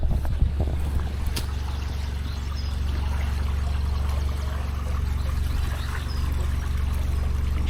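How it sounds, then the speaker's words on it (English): Continuous low rushing roar of water pouring through a canal lock sluice on the River Stour, steady and heavy, with a couple of faint clanks early on. "Slowly releasing the water so we can get in."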